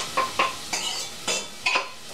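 Tomatoes, garlic and onions are stirred in a pan for a tomato sauce, a utensil scraping and clinking against the pan in several short strokes over a soft sizzle, close by.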